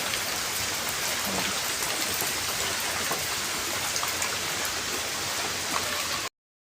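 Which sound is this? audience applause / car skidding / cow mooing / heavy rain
heavy rain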